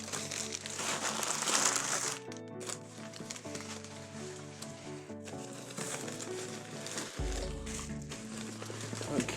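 Packing paper crinkles and rustles steadily while a beer package from Crabbie's is unboxed. The handling noise stays continuous and close, with music playing underneath.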